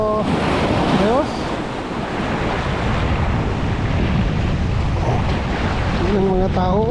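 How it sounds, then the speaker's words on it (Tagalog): Ocean waves rolling onto a Hawaii beach under a gusty wind, a loud continuous roar of surf and wind buffeting the microphone, with someone talking briefly at the start and near the end. "Yan ang dagat. Medyo mahangin, pero ayos."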